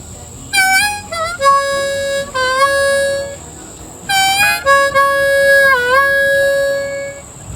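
A harmonica plays a short riff twice, sliding from the 3 blow down to a bent 2 with sustained, reedy tones and clear pitch bends, close and alone.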